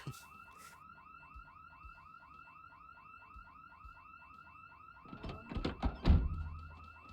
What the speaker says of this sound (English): accidentally tripped off their house alarm